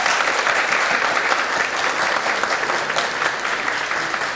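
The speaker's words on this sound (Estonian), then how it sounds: "nii et suur aplaus G1-dele" A hall full of people applauding a graduating class at a school graduation ceremony, broad continuous clapping that stays even and moderately loud from start to finish, with no speech over it.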